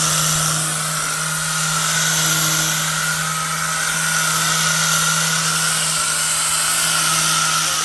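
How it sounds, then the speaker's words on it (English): A high-speed sander grinds a bullnose edge onto stone tile, a loud, steady close whine with a constant hum that runs unbroken from start to finish. "It's basically a high-speed sander, you know?"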